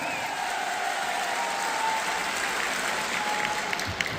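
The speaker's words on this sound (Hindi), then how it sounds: "जोरदार तालियां होनी चाहिए" Loud, sustained applause from a large audience at a business anniversary event hall, an even roar of clapping that holds steady throughout with only a few sharper claps near the end.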